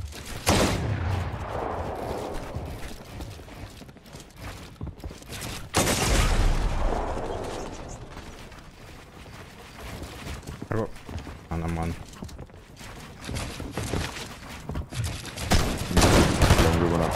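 Rapid gunfire bursts from a Fortnite 1v1 build fight on console, loud and dense, in repeated volleys with building and movement noise, over a person talking.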